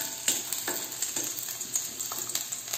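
Garlic cloves and shallots frying in a hot pan for a South Indian turkey berry gravy, giving a steady close sizzle with repeated stir and toss clicks and no talking.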